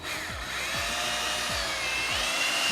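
A power drill runs steadily forward with a polishing attachment on a foggy car headlight, giving a continuous whirring whine with a few soft rhythmic thumps underneath, close and fairly loud.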